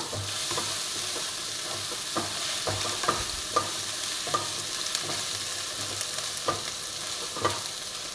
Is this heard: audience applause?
no